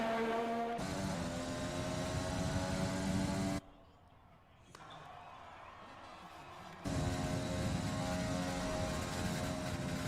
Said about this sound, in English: He lifted! He blipped the throttle!